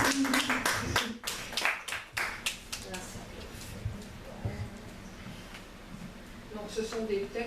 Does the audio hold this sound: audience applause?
yes